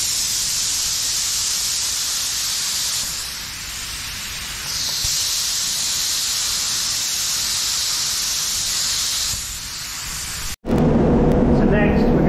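A spray can lays a coat of white paint onto a part for a Ford P100 shop truck, the nozzle hissing steadily and close in long bursts with brief pauses, before it cuts off abruptly.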